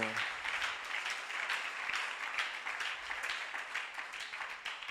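A church congregation claps for the Lord, with dense, sustained applause that stays fairly even through the moment.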